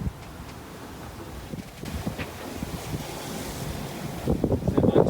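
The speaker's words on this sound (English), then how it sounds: "Bit of a rain squall coming in, Sammy." Wind roars and waves wash around a sailboat on the Pacific Ocean as a rain squall moves in, a steady broadband rush with gusts buffeting the microphone and water surging louder near the end.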